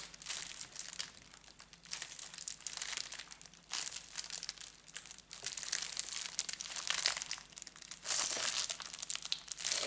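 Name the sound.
opening crinkly paper packaging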